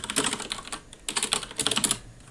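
Bursts of rapid keystrokes on a computer keyboard while writing and compiling C++ code, two clusters of clicky typing separated by a short pause, close and clear with no talking.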